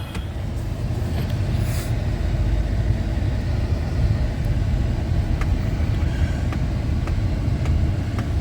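A 2013 Chrysler with a V6, just fitted with a new thermostat, drives on a test ride. A steady, loud engine and road rumble fills the cabin, with faint rattles and ticks over it and no talking.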